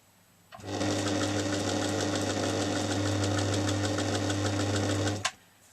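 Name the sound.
domestic sewing machine stitching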